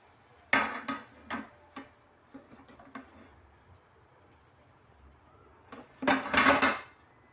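Okra (ladyfinger) dropped into a heated pan in a home kitchen, heard as a few sharp clattering bursts early on, then quieter rustling, and a final loud cluster of clanks and sizzle toward the end.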